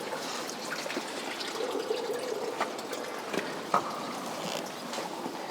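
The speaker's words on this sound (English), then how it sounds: "the water is going through the hose right here. Straight from the ground." Water runs through a hose straight from the ground, a soft, continuous trickle and gurgle with a few small splashes and knocks, fairly faint beneath room ambience.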